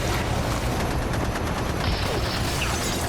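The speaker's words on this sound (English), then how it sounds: "Got like Uzi, machine guns." Uzi and machine gun fire in an animated action scene, a dense, loud, continuous fusillade of rapid shots with no talk.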